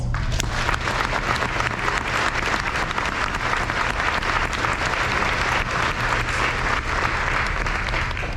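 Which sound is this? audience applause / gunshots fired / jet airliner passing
audience applause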